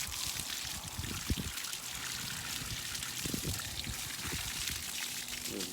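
Water runs again from a home plumbing line after a repair, a constant faint rushing pour and trickle with a few low gurgles and knocks, close and steady with no voices.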